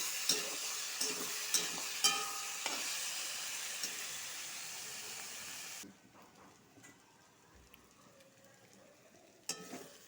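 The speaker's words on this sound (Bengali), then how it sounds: "টমেটো কুচি পেঁয়াজের কুচি আর রসুনের কুচিটা ঢেলে দিব ভালো করে ভাজবো" Chopped tomato, onion and garlic fry in a pan with a steady broadband sizzle and a few sharp stir clicks, loud for about six seconds before settling to a faint hiss.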